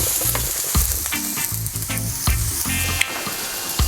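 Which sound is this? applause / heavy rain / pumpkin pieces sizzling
pumpkin pieces sizzling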